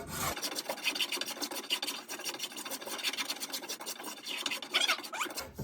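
A hand tool rasps across wood in a boatbuilding shop, working against the grain with rough, scratchy repeated strokes, fairly quiet and close, with no talk.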